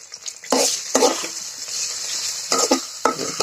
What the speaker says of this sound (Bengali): কিছু সময় একটু ভেজে নেব।